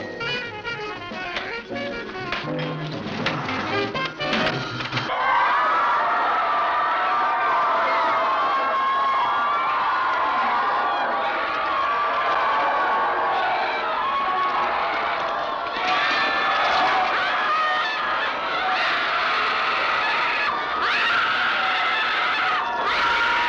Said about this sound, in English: The collective hysteria of this crowd, their writhing and screaming in this deconsecrated church in the Cilento region of southern Italy